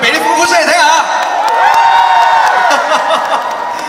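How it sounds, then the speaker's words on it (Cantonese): Live concert audience at a Los Angeles show cheering and whooping loudly, a dense sustained roar of voices with shouts rising and falling throughout. "可唔可以俾啲歡呼聲嚟聽下？"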